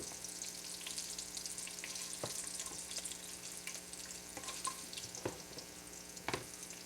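Cabbage and sausage fry in a skillet with a low, steady sizzle, punctuated by occasional sharp spatula clicks and stirring scrapes, with no talk.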